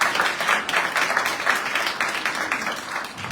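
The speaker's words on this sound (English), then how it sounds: "give yourselves a wonderful round of applause" A town hall audience on human and civil rights claps in a dense, even round of applause that stays steady from start to finish, with no talking over it.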